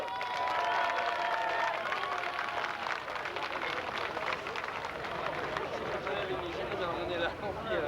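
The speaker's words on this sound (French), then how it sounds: "On peut l'applaudir un petit peu plus que les autres." A crowd at a tractor pulling event applauds a contestant with sustained clapping and murmuring, a broad continuous wash of hands at medium distance with voices mixed through it.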